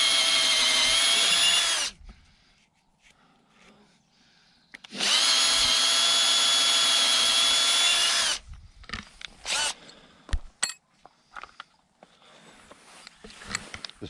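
A power drill bores a cone-shaped hole into a fence post for a box strainer, the bit trimmed down as it goes in: two long, loud whining runs with a pause between, followed by scattered knocks and rustling.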